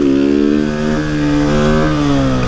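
A Honda CG Start 160 motorcycle engine revs loudly up close, its pitch climbing and dipping in a continuous throaty roar.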